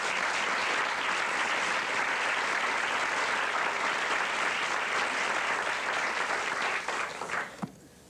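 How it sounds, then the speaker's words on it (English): An audience at a speaking event gives a round of applause that holds dense and steady for several seconds, then tapers off to a few scattered claps at the end. "His parents, Glenn and Jean, would you please stand up so we can give you all a round of applause?"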